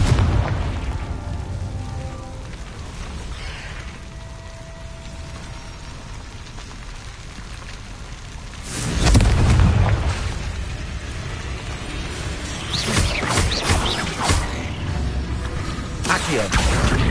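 Confringo blasting spells in the PS5 game Hogwarts Legacy, with a loud booming burst near the middle and further crackling blasts toward the end over continuous game ambience.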